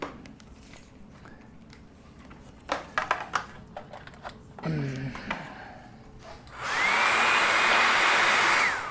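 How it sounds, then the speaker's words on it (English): A hair dryer starts up and blows steadily near the end, drying a freshly made textured clay plate on a pottery wheel, after a stretch of quiet handling noises and light clatter. "we're going to use a hair dryer to dry this a little bit"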